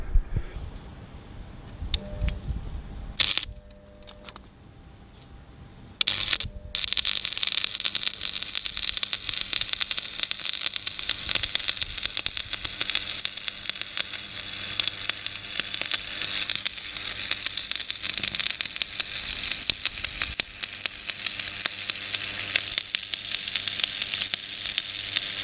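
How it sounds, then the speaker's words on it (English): Two metal pieces being welded together, a steady crackling sizzle of the arc running loud and continuous for most of the stretch after a brief pause, with a few short bursts before it. "I have to weld two like this and figure out if it's stronger like this somehow."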